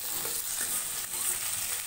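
Big petal-cut onions roasting in a pan over a medium flame for a South Indian hotel-style sambar, giving a steady, close frying sizzle with faint stirring, no voices.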